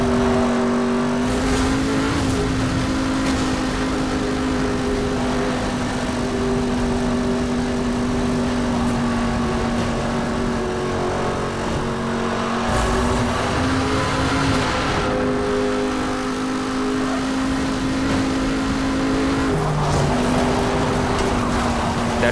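Steady, loud engine drone of a car racing and brake drifting in the video game Need For Speed Hot Pursuit Remastered, with sustained revving tones that shift pitch at moments, alone without speech.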